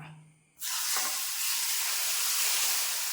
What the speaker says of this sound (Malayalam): നമ്മുടെ എണ്ണ ചൂടായിട്ടുണ്ട് നമുക്കിത് നമ്മുടെ അച്ചാറിലേക്ക് ചേർത്ത് കൊടുക്കാം